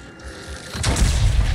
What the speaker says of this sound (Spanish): Pero que no te pille la explosión.